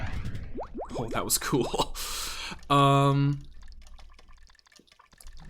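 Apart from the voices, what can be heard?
running on water in video game Cube World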